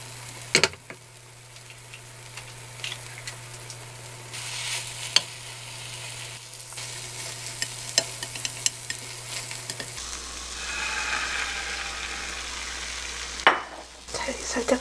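A rolled egg omelette packed with onions sizzles steadily in a frying pan, with scattered clicks and scrapes from a utensil and a low electrical hum beneath the cooking.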